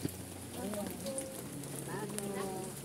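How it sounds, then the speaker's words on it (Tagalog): Steady rain falls outdoors as a constant soft hiss, with people talking faintly in the background. "Ay umuulan sa panahon na to."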